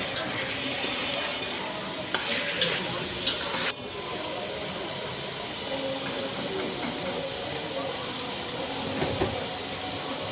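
Goat meat frying with onions in a pan, a continuous dense sizzle with occasional stirring clatter, fairly loud and close throughout.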